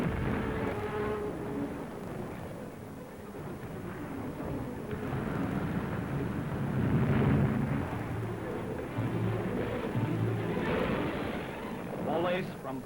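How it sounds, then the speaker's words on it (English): Big-caliber guns pounding wartime Warsaw as blocks of houses collapse: a continuous rough roar of rumbling blasts and crashing debris on an old, noisy archival recording. "Whole blocks of houses collapsed under the fire of big caliber guns."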